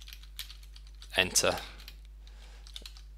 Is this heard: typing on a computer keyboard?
yes